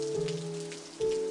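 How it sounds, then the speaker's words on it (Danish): Heavy rain falls on a cobbled street in a steady hiss. A sustained low tone underlies it and swells again near the end. "indtil det begyndte at regne kraftigt."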